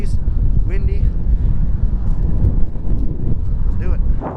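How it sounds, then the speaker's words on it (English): Strong wind buffets the microphone with a constant low rumble throughout, broken by a few faint squeaky sounds, outdoors on a cold 20-degree day during Iowa shotgun deer season. "It's 20 degrees, windy."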